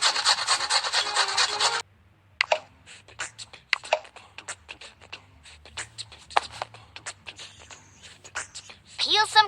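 Grating pizza ingredients by hand with a grater in a cartoon kitchen. A burst of scraping comes first, then a series of short, close rasping strokes. Voices are heard briefly at the end.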